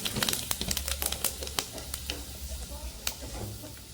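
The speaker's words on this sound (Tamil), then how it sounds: "எண்ணெய் கொதிச்சிட்டது நான் இதுக்குள்ளே பெருஞ்சீரகம் சேர்க்கிறேன்" Crackling sizzle of fennel seeds frying in hot oil, with sharp pops and ticks scattered over a steady hiss, close up.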